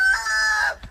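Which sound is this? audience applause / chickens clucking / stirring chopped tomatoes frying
chickens clucking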